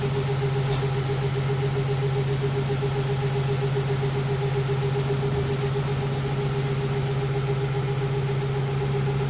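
A 1965 Plymouth Valiant 100 with a slant-six engine and three-speed, freshly oil-changed and started after years, idles with a smooth, steady hum and an even, unbroken drone throughout.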